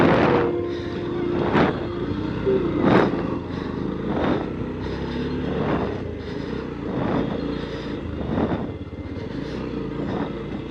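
A Yamaha FZ-X motorcycle on a test ride gives a continuous engine drone with recurring swells, close and steady throughout.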